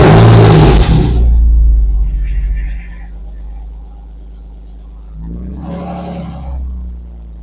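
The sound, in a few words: Porsche 986 car engine starting up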